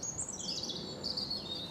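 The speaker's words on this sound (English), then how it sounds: "Plenty of bird song." Thin, high bird calls warble and chirp continuously over a soft outdoor background on a woodland walk near Ash Vale, England, moderately distant and fairly quiet.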